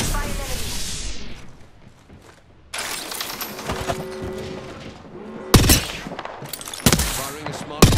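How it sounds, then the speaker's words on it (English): Smart shot gunfire from the Ballistic character in Apex Legends, a video game: bursts of loud gunshots with booming impacts and rapid cracks, mixed with game effects and chatter, spread across the clip. "Firing a smart shot."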